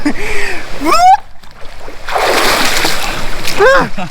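Water splashing as someone bathes in a natural rock pool in the hills of Sittong, North Bengal, close splashes and sloshing under bursts of excited voices, with a longer wash of water in the middle.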